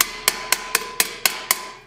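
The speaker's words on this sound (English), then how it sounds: "just kind of hammer things down" Seven evenly spaced hammer blows on a steel helmet piece held over a ball, each a sharp ringing clang, landing steadily about four times a second, close up with no voices.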